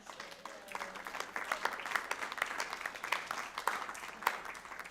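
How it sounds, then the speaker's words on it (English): A crowd at a celebration event applauds for themselves: a dense, moderately loud wash of clapping with scattered sharp claps, steady for five seconds with no talking. "so let's give ourselves a round of applause"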